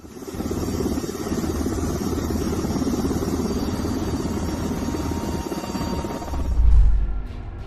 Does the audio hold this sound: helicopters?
yes